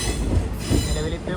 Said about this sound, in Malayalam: ട്രെയിൻ ഇതാ കൊല്ലം ജംഗ്ഷനിലേക്ക് എത്തുകയാണ്.